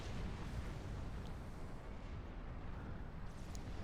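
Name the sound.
artillery fire in Supreme Commander 2 video game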